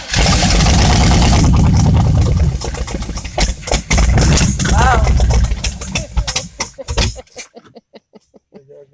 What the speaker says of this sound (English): Now I start this motor up on the ground.